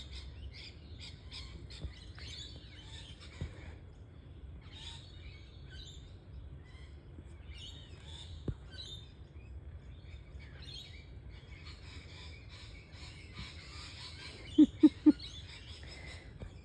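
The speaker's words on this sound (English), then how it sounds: "Haven't the birds been so lovely?" Birds chirp and call intermittently over a low background rumble, with a few sharp squawks near the end.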